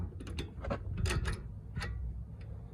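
Wrench ratcheting and metal parts clicking while bolts are tightened on a Cadillac XTS front magnetic strut, a run of close, irregular mechanical ticks and clanks with no talking.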